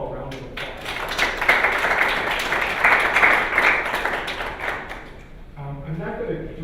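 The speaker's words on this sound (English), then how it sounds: "could we give them all a round of applause?" Audience applause at a symposium talk, a burst of clapping that builds and holds for several seconds before fading, with a speaking voice coming in as it dies away.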